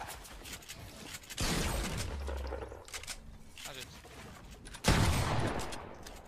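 Bursts of rapid gunfire in the video game Fortnite come in two loud rattling volleys among quieter game sounds, with a voice talking faintly underneath.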